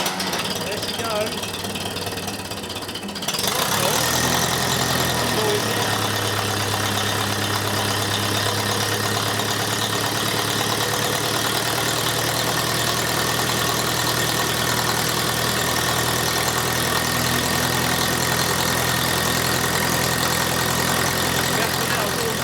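A Ferguson TE20 tractor engine fires after a quiet lead-in and settles into a steady, loud, even idle that continues unbroken close by, with no talk over it.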